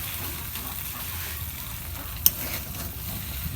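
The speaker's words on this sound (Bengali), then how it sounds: "দেখেন কি সুন্দর করে বাড়িতে আপনার নুডলস রান্না হচ্ছে" Noodles with egg fry in a pan, a steady soft sizzle with stirring throughout and one sharp clink of a utensil partway through.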